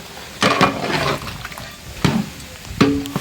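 Mutton curry for Dindigul biryani is stirred in a pot, a few wet scraping and clanking strokes with sloshing between them, close and fairly loud.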